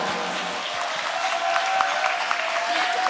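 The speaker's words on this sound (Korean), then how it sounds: "여러분 박수가 조금 부족했던 것 같습니다." Applause from a gathered crowd at an outdoor memorial ceremony in Ulsan marking the ninth anniversary of the Sewol ferry disaster, steady and moderately loud throughout with a faint tone underneath.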